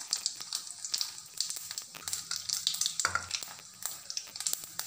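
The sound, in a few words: mustard seeds and lentils sizzling in oil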